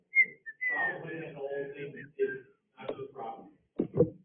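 A person whistles a short, halting tune in breathy bursts with gaps between phrases, close and fairly quiet.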